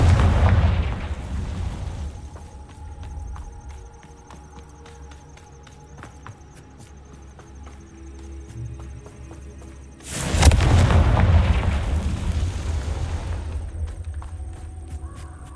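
Two booming Confringo fire spell blasts in Hogwarts Legacy, one at the opening and another about ten seconds later, each a loud rumbling burst that fades slowly, with faint game ambience in between.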